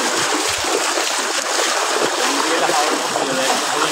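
Floodwater in Laksam, Comilla, rushing and splashing loudly in a steady broadband wash, with a voice occasionally heard beneath the flow.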